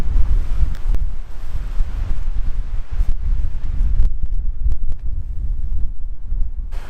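Strong wind buffets a Fjallraven Abisko Shape 3 tent outdoors, a loud continuous roar with gusty swells and occasional flapping thumps of fabric.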